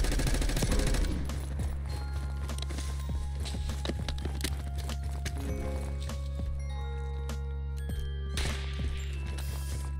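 Gunfire in Black Ops 6 Warzone: a sharp burst of rapid shots hits loud at the start, then scattered single cracks and clattering footsteps follow more faintly over a steady game hum.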